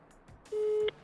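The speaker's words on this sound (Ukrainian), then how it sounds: "Телефонуємо відділу продаж." A single steady telephone tone sounds for about half a second during a call to a property developer's sales department, alone and fairly loud over faint background hiss.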